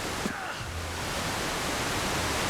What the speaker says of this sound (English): Gotta stay away from the waterfall.